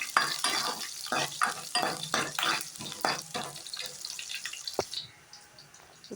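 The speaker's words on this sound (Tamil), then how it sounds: "இப்போ வந்து வெங்காயம் கருவேப்பிலை சேர்த்திக்கலாம் சேர்த்து நல்லா வணக்கி விட்டுக்கலாம்" Onion and curry leaves sauté in a pan for a Tamil horse gram kuzhambu, with steady sizzling broken by repeated scraping stirs up close, then quieter frying toward the end; no one speaks.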